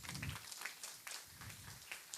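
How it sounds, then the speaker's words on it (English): An audience applauding at a kindergarten graduation ceremony, faint scattered clapping from a distance with uneven bursts rising and falling. "And we give them a big round of applause for their overall performance on the stage."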